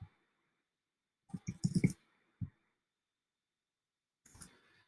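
A computer mouse gives a few sharp, close clicks. There is a quick cluster in the middle, then a single click, and one more faint rustle near the end, with silence between them.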